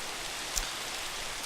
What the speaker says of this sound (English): Oh man, I love it when it's raining in here.